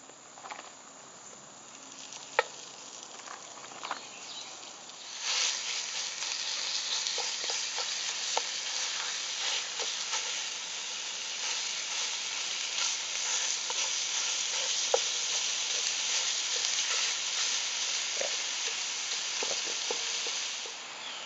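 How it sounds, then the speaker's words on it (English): Sausage browning in a cast-iron Dutch oven for a mountain man breakfast, a dense continuous sizzle that swells after a few seconds, with occasional stirring clinks and scrapes, close and steady, no voices. "let's go ahead and get this sausage grilled up"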